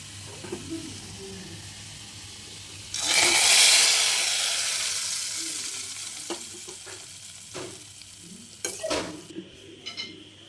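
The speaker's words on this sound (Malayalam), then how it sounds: "ഇത് വെളിച്ചെണ്ണ ഒഴിച്ചു വെളിച്ചെണ്ണ ഒന്ന് ചൂടാവട്ടെ കേട്ടോ എന്നിട്ട് കടുകിടാം" Coconut oil heats in a pan for tempering a mango curry, with a sudden loud sizzle that swells and slowly fades, followed by scattered sharp utensil clicks and taps nearby; no one speaks.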